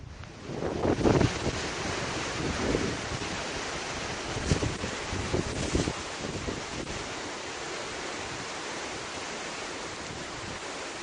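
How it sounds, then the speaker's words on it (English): Waves wash steadily onto a beach, broad surf noise rising and falling over eleven seconds with some wind rumble on the microphone and no voices. "There's a 20-second video of just a beach."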